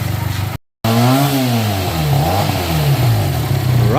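Loud nearby engine revving short of full throttle, its pitch climbing and falling in repeated sweeps after a brief cut, with no talking over it.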